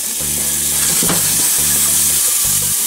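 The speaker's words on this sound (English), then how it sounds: "Nice sizzle going on." Minced garlic, about a teaspoon, sizzles steadily in a hot frying pan while quesadilla filling is prepared, a close, continuous bright crackle with a low hum from the kitchen underneath.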